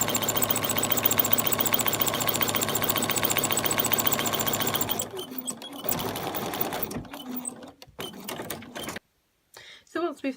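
A sewing machine stitching foundation paper piecing at a short 1.5 stitch length runs in a fast, steady rattle for about five seconds, then breaks into short, uneven bursts with pauses, fairly close and loud.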